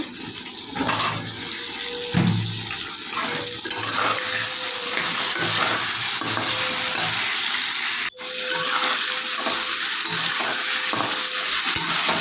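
Sliced ridge gourd and potatoes frying in a pan give a loud, steady sizzle with the scrape of stirring and brief clatters, and no talking.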